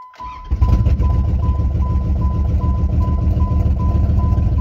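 An old Dodge truck engine starts up and runs steadily at close range, a loud low rumble with a faint high whine over it that carries on without a break.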